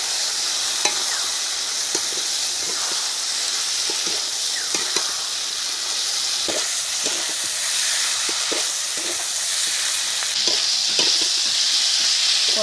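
Ginger and cumin paste with chili fries in a pan in a village kitchen, giving off a loud, steady sizzle and hiss with occasional soft stirring scrapes throughout.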